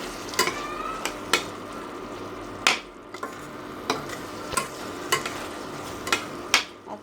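A utensil stirs and sautés food in a pan, making rhythmic scraping clacks roughly every half second over a faint, steady sizzle, with no talking.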